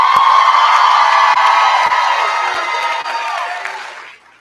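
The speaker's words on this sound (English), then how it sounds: "Let's give them a round of applause too." A commencement audience at Harcum cheers and applauds graduates' families, a loud mass of crowd noise with whoops and shouts over clapping that fades out at the end.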